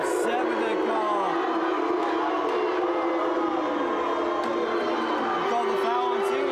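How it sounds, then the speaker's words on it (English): A crowd at a women's college basketball game voices displeasure over a foul call with a loud, sustained roar of mixed shouting that fills the whole stretch, while a commentator talks over it. "the crowd is upset with that call"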